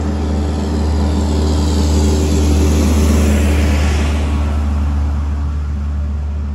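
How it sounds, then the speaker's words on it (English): A tractor's heavy engine rumbles steadily and loudly, swelling slightly as it passes close by on a street, with a constant low drone throughout. "Okay, here comes a tractor."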